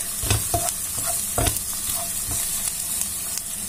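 Pepper purée sautéing in a pan gives a steady, bright sizzle throughout, broken by several scraping stirs of a utensil against the pan; no voices.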